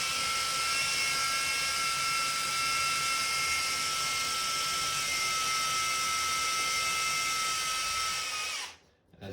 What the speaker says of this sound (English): grab our masonry drill and just put it on drill function only, so no hammer